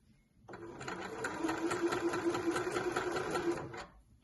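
A sewing machine runs a seam on dress fabric, one continuous burst of rapid even stitching lasting a few seconds, close and clear with a quiet start and stop.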